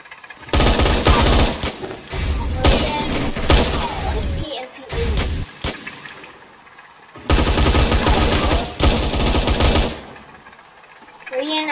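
Bursts of automatic gunfire in a video game set in the Korean Demilitarized Zone, loud rapid rattles in long volleys separated by short pauses, with voices talking in between.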